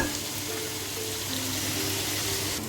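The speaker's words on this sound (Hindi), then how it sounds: "इसी ऑयल के अंदर हम जो है वो चिकन को फ्राई करेंगे" Chicken pieces frying in a small amount of hot oil for an Iftar dish, giving a steady, even sizzle that holds throughout with no talking.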